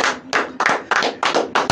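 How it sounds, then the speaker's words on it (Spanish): Several sharp hand claps ring out in a quick, slightly uneven rhythm, close and fairly loud, with short gaps between bursts in a radio studio setting. "¡Un aplauso!"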